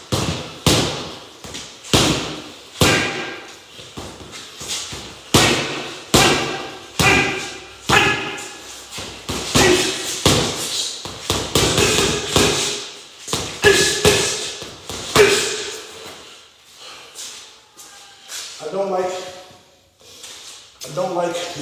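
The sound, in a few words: punches with boxing gloves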